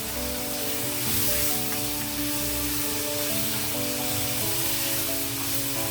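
Onion, curry leaves and green chillies fry in hot oil with a continuous sizzle, heard under sustained background music.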